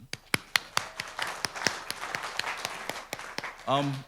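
Scattered hand claps from a small symposium audience, irregular and sparse, each clap crisp and distinct, ending with a brief voiced sound.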